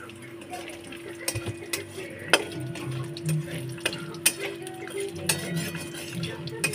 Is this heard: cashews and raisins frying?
yes